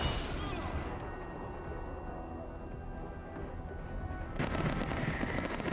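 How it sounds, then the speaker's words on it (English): Flash and heavy grenades going off in Resident Evil, sounding as a dense roar of blasts and crackling gunfire that fades, then a fresh burst of sharp rapid bangs near the end. "Get a flash grenade out. Get a heavy nade out. Get another flash grenade out."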